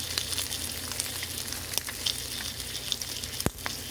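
Home-smoked, brined bacon fries in a pan with a steady, close crackling sizzle and scattered pops, no voices over it.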